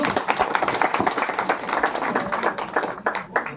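Wedding guests break into steady, lively applause, many hands clapping close and continuously through the whole stretch, with a faint murmur of voices beneath.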